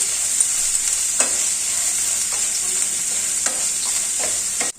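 Cooked horse gram being stirred into a stir-fry in a pan, a steady bright sizzle throughout with several soft scraping strokes of the spoon, close and continuous.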